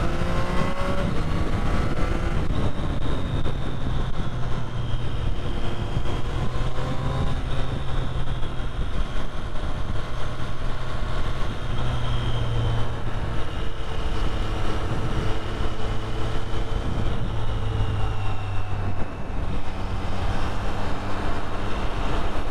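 A 2023 Triumph Street Triple 765 R naked motorcycle cruising on a freeway, with steady engine drone and heavy wind rush throughout, a shift in engine note partway through, and no voices.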